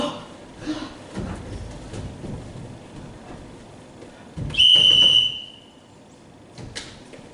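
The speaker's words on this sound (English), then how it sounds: "It's an accusatory whistle." A shrill accusatory whistle like a swimming-pool lifeguard's, one loud sustained blast of about a second cutting through quieter stage ambience with faint movement and murmurs.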